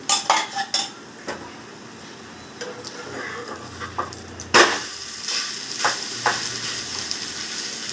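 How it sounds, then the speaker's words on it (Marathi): A breakfast flatbread is flipped in a pan and a little oil is added on top, producing clattering utensil scrapes and knocks over a steady soft sizzle of frying, close by. "आता मी पलटी करून घेते. वरतून थोडंसं तेल घालते."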